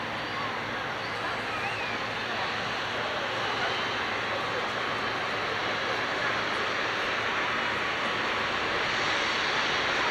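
A jet aircraft roars steadily at Manchester Airport, a broad, continuous engine rush with a high whine, loud and unbroken throughout.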